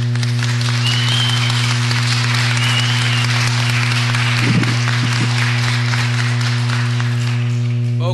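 Applause from an audience at a city planning and land use committee meeting, a steady crowd of hands clapping over a loud constant electrical hum, with brief murmuring voices.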